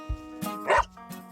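A pet dog named Idole gives a single sharp, close bark between soft yips and whimpers, with a faint voice nearby.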